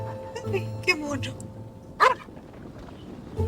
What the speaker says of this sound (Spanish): perrito.